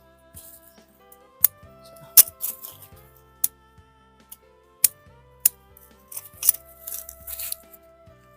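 Shears snip through the roots of a Ficus microcarpa bonsai, a kimeng tree freed from its polybag, with a series of sharp isolated clicks and cuts spaced irregularly, close and fairly crisp over faint background tones.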